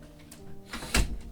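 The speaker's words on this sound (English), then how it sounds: "And I'm just going to close the door because there's a lot of dripping sounds." A door pulled shut indoors: a soft rustle of movement followed by a single dull thud near the end, close and short.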